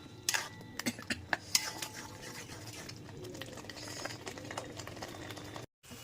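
Chicken with a chilli, ginger, cumin and garlic paste stir-fried in a pan, quiet sizzling under a run of clinking spatula taps at the start, then a softer steady fry with light scraping.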